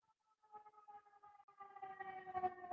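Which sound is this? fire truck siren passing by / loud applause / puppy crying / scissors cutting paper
fire truck siren passing by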